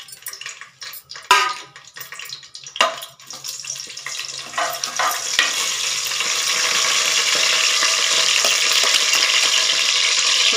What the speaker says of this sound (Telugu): ఆయిల్ హీట్ అయిన తర్వాత ఇందులో ఈ స్పైసీనెస్ అన్నీ వేసుకున్నాం